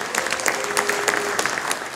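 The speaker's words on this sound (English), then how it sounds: "Give me a show of hands or applause if you've heard of Senator Lisa Murkowski" Scattered audience applause at a live political comedy show in New York, a steady patter of clapping from a moderate-sized crowd with a faint sustained tone running through the middle.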